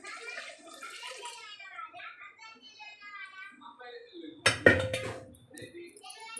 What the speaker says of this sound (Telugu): 2 గ్లాసెస్ ఆఫ్ బాస్మతి రైస్కి 3 గ్లాసెస్ ఆఫ్ వాటర్ పోసుకోవాలి.